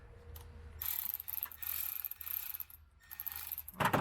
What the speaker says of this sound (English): Oh, the ratchets give me a little bit of problem there.